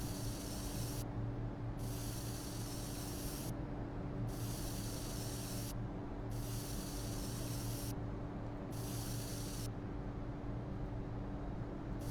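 Spray painting a rose in the video game Schedule 1, five bursts of loud, steady hissing spray separated by short pauses, over a constant low background rumble.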